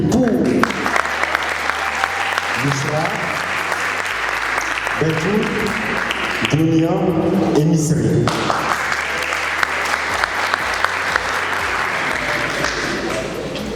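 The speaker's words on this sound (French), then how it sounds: "je vous invite à applaudir très fort pour l'équipe de Pour" Sustained applause from a debate-competition audience, steady and dense throughout, with a voice announcing names over the clapping partway through.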